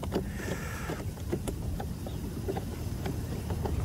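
A small radio-controlled model boat buzzes across a pond outdoors, with steady wind rumble and splashing throughout.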